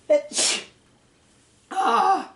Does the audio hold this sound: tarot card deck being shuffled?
no